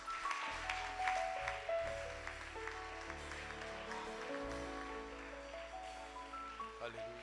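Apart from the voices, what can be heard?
congregation applauding and acclaiming the Lord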